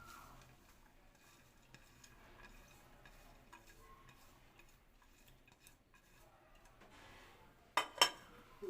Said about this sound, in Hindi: अब इसमें दाल मिक्स करूँगी